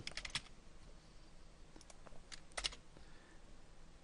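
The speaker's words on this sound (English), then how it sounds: "So I'm going to type in t-shirt." Typing on a computer keyboard while entering a product name into an online store theme, with quick bursts of keystrokes separated by pauses, close and fairly quiet.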